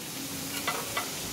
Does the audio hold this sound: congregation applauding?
no